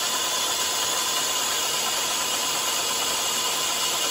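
Over-volted Razor SX500 electric dirt bike running on 48-volt batteries: a steady, loud whining motor drone with a constant high tone, heard close up for the whole stretch with no talking.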